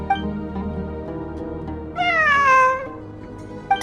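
A cat in the Genshin Impact video game gives one drawn-out, rising and falling meow, clear and fairly loud, over a low ambient game background with a faint chirp at each end.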